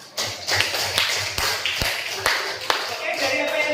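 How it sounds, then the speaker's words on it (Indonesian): An audience at an emotion-management training session breaks into applause, a steady wash of many hands clapping with sharper individual claps popping out, filling the room for several seconds. "Tepuk tangan."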